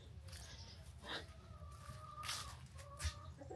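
Chickens in a backyard coop on a Russian homestead cluck softly and intermittently over a steady low rumble, a few brief calls rising now and then, faint and somewhat distant.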